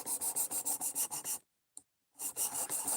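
An 8Cr13 steel knife blade scraped over a sharpening stone in quick, regular rasping strokes, close and crisp, broken by a brief pause with a single click before the strokes resume.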